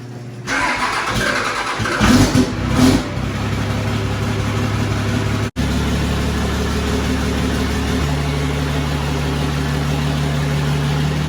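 A Cummins diesel engine cold-starting: a brief cranking burst, then it catches and settles into a steady, loud idle that continues close by.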